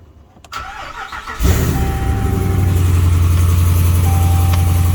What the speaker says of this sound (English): Sounds like a normal truck, pretty much. It's a touch louder